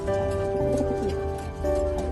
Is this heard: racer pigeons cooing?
yes